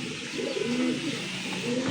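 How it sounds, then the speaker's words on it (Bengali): Pigeons cooing in a pigeon farm: several birds make soft, overlapping coos close by in a continuous murmur, with a faint chirp or two and no speech. "আজকে দেখতে পাচ্ছেন কবুতরের কালেকশন"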